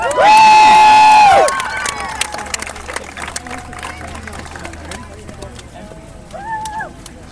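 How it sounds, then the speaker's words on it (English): At a church water baptism service, a crowd claps and cheers after a loud opening whoop, with dense applause and scattered shouts continuing and fading, and voices mingling throughout. "So if there's anybody here for Heather, let's give her a big clap"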